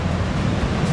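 Steady sea waves wash with a dense, low rumbling roar, continuous and fairly loud with no distinct breaks or voices.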